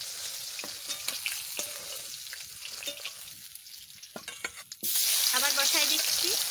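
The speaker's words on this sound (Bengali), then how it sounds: "মাছ ভাজা হয়ে গেছে, তুলে নিচ্ছি" Fish sizzling as it fries in a pan, a steady crackle with scattered pops and light clatter, growing louder and brighter toward the end.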